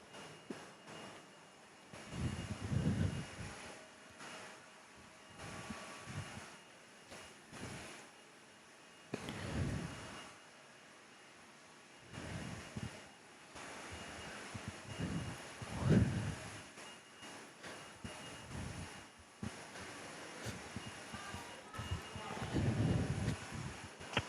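A passenger aircraft takes off from the runway at Perth airport in wet weather, with engine roar swelling and fading in several waves amid rain and background noise, and brief faint voices.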